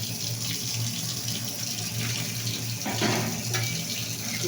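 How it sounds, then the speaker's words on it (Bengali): Water pouring steadily into a cooking pot in a home kitchen, a continuous close splashing rush with a slight swell near the end, with no voices. "জল দিয়ে দিলাম।"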